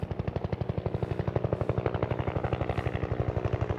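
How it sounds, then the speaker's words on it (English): A helicopter flies overhead with a rapid, steady thudding rotor beat that stays loud and close throughout, with no one talking. "Helicopter."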